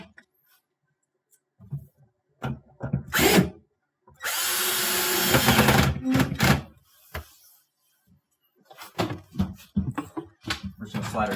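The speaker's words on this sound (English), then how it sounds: "Now we can reinstall our 2/4 inch screws there." A power drill drives screws into a refrigerator panel in short close bursts, with one longer sustained whir between clicks and handling thunks.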